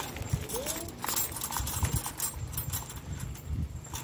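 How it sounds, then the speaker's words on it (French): Horses' hooves clip-clop on the ground in an outdoor area near land burned by a wildfire, a steady uneven patter of steps at moderate distance with background noise. "Et là, il y a des chevaux, hein, ici, là-bas."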